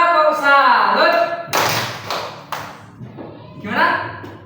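A class of young children in a third-grade lesson perform a rhythmic clapping chant, claps landing in a short sequence between sung voices, close and lively.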